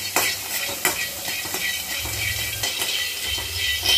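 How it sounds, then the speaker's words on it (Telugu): Peanuts are dry-roasted in a kadai, with a close, steady sizzle and hiss. A spoon stirs the nuts and scrapes the pan, and the nuts rattle against the metal from time to time. "పక్కనే వేరే బాండి పైన పల్లీలు వేయించుకుందాం"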